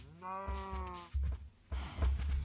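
A Minecraft cow gives a drawn-out tonal moo, followed by a few low thumping footsteps and game noises, close and clear with no talking.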